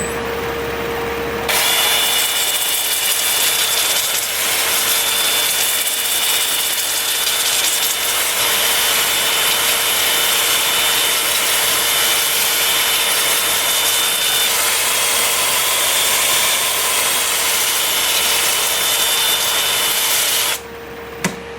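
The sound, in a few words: sanding turned wood pedestal with 120 and 180 grit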